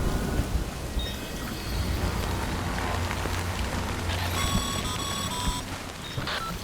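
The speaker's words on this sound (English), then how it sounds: "Good thing it was raining." Steady rain, the timefall of the video game Death Stranding, hisses densely on surfaces, with a low rumble beneath and a few thin tonal game sounds partway through, continuous and fairly loud with no talk.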